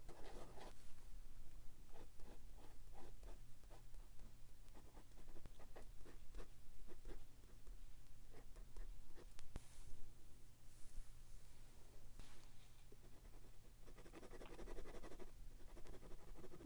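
Pencil sketching on paper while drawing a character redesign of a hooded figure: steady close scratchy strokes and soft rubbing, continuous with brief pauses, no talking.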